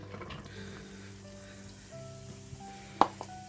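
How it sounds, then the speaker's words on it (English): Roughly diced onions sizzling in hot olive oil, a faint, soft crackle close by, broken by one sharp knock near the end. "We're going to add some just roughly diced onions to that."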